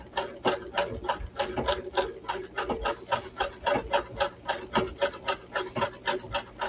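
A sewing machine stitches long straight lines along corded channels of stays, a steady rapid run of needle thumps with regular surges, close and continuous with no talk.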